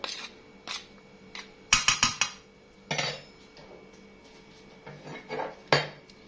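A spoon clinks and scrapes inside a bowl while flour and starch are mixed for coating eggplant, in scattered close bursts of sharp metallic knocks and rattles separated by short quiet gaps.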